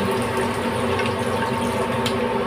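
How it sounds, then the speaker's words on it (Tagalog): Water pours steadily into a pot of sautéed mussels for tinolang tahong, a continuous splashing fill that stays loud and even throughout. "Maglagay na tayo ng tubig."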